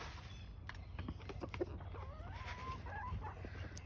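Backyard flock of chickens clucking and murmuring close by, with soft chirps and a few rising calls over a steady low outdoor rumble.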